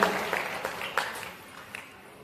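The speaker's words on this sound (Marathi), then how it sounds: "टाळ्या वाजवून आणि आपल्या ताईचं या ठिकाणी स्वागत करूया" A gathering at a felicitation ceremony in Jalna claps to welcome a guest. The clapping opens fairly strong, thins into scattered claps and fades out quickly.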